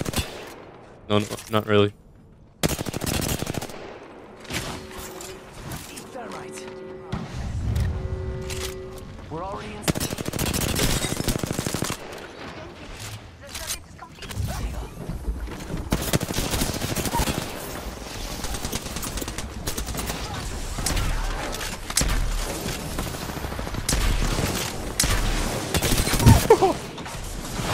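Gunfire in the Apex Legends video game, bursts of rapid shots scattered through the clip alongside game effects, with a player talking over the action.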